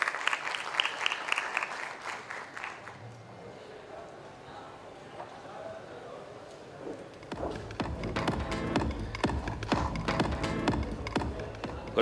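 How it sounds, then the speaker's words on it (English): An audience at a fintech summit keynote applauds in dense clapping that fades briefly, then swells again into sustained applause as the speaker is welcomed onto the stage. "let's have a huge round of applause"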